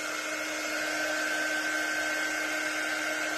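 A hair dryer blows steadily at close range, a constant whooshing hum with a fixed whine, uninterrupted and alone throughout.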